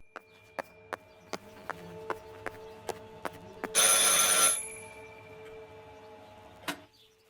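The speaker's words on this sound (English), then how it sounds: "I should pick up the phone but remain silent." An old telephone ringing in Martha is Dead, a regular series of sharp metallic bell strikes in steady rhythm, followed by a harsh hissing burst and one final ring, with no talk.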